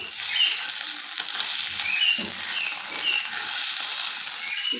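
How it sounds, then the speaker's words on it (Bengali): Leftover rice mixture being stirred gently in a pan over a low flame, giving a steady soft sizzle with faint scraping from the stirring throughout, close by and with no talk. "লো ফ্লেমে হালকা নাড়াচাড়া করে রেডি করে ফেলব"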